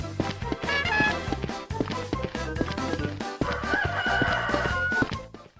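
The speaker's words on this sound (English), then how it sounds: "I swear if I hear that cockerel again" Rooster crowing inside the PS1 game Shrek Treasure Hunt, a loud and repeated game-audio effect set over a busy, steady backing track.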